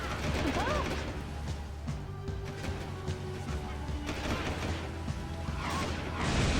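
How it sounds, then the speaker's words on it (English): Explosions and gunfire from the video game Jak II: Renegade, a dense, continuous barrage of blasts and mechanical clatter at steady loudness throughout. "I heard an explosion"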